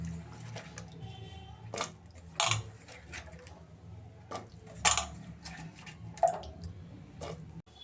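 Chopped tomato, onion, potato and brinjal, soaked in water, are tipped into a cooking pot for sambar, giving several separate wet plops and splashes with metal clinks, close and fairly quiet, with no talk.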